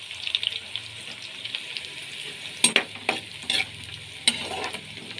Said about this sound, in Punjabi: ਆਪਣਾ ਪਿਆਜ਼ ਭੁੱਜ ਗਿਆ ਹੈ ਤੇ ਲਾਲ ਜੇ ਹੋ ਗਏ